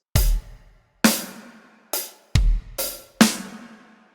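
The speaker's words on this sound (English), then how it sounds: "we're going to get like an offset bass drum followed by an offset snare drum" Acoustic drum kit playing a beginner-level groove with an offset bass drum followed by an offset snare drum: six sharp, loud hits in a syncopated pattern with ringing decay, heard alone without talk.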